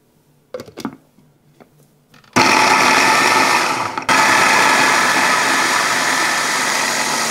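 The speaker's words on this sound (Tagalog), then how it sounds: "Gagamit ako ng food processor para mapabilis tayo." A food processor chopping vegetables, including eggplant, for meatballs. A few faint handling clicks, then a loud steady whirring motor with one brief break before it runs on.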